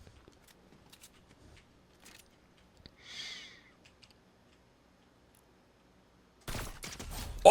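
Gunfire in the Fortnite video game, faint scattered shots and clicks across a quiet stretch, followed near the end by a louder rapid burst of fire.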